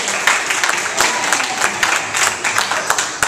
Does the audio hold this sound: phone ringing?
no